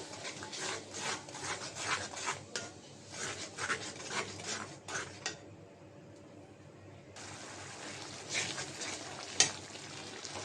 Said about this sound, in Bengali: হলুদের গুঁড়া ধনিয়ার গুঁড়া দিয়ে দিলাম এক চামিচ লবণ মশলাটা কষাই নেব